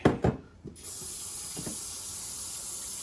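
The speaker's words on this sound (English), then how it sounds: "I'm going to add 8 cups of water" Eight cups of water poured into a cooking pot, a steady close hiss of filling that settles into a constant wash after a few brief knocks at the start.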